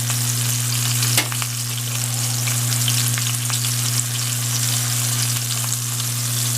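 Lamb steak frying in a pan, giving a steady close sizzle with a constant hum beneath and a few sharp crackles and pops, and no one speaking.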